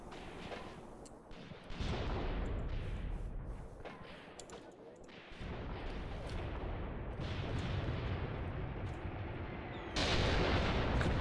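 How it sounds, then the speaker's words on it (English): Artillery fire in the Graviteam Tactics war game booms in heavy, overlapping blasts, rumbling continuously with louder bursts near the start and end, dense and close with no voices. "Artillery coming in."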